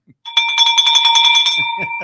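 A bell rings on a live real-estate Q&A show: a bright electronic doorbell-like chime, loud and close, sustained with rapid repeated strikes for over a second before fading out.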